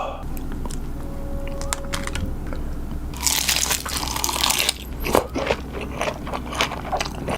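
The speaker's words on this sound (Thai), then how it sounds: "เสียงกรึบๆนี่ไม่แน่ใจว่าพริกหรือแมงกะพรุนนะ" Close, wet crunching bites of pickled chili or jellyfish, a few sharp crisp chews in a row followed by a busier burst of crackly chewing, with faint clicks before it and no talk.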